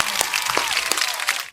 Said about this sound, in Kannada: ಹೊಡಿರಿ ನಿಮಗೆ ಚಪ್ಪಾಳೆ ಹೊಡಿರಿ.